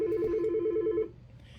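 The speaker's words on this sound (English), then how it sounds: "the phone's ringing." A telephone rings with a steady, rapid warbling trill lasting about a second, loud and close, then cuts off abruptly, leaving faint room noise in a classroom setting.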